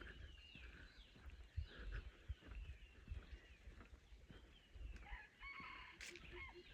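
Fighting roosters crow in the distance over quiet rural morning ambience with scattered low thumps, and one louder, closer crow rings out near the end.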